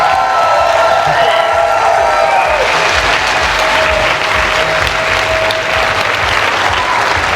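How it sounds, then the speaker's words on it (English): A loud, raucous round of applause from a crowd at a vegan camp-out weekend, heavy continuous clapping mixed with cheers and whoops, with some voices audible at the start before the clapping swells. "a big, loud, raucous round of applause for everybody in this room and here this weekend"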